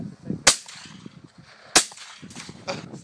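Two sharp, loud shotgun blasts fired at a radio-controlled golden eagle model aircraft, about a second apart, each cutting through a low background of outdoor rumble and faint activity.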